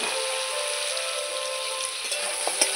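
Potato, pumpkin and tomato pieces frying in a pan, a dense, even sizzle throughout with a few faint clicks and taps toward the end.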